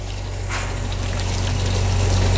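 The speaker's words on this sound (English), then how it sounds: "We're gonna go ahead, turn the pump on, and you can hear it going." Pump circulating water through draft beer lines runs with a steady low hum and a constant rushing, gurgling water flow that grows slightly louder, with no voices.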